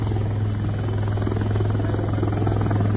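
A rescue helicopter flies over a flooded area, its steady, loud rotor and engine drone filling the whole stretch with no break.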